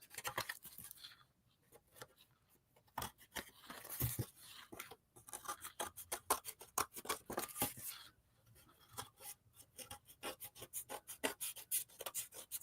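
Scissors trim paper overhang from the edge of a chess-themed collage disk, a long run of close, crisp snips and rustling paper with brief pauses, no talking.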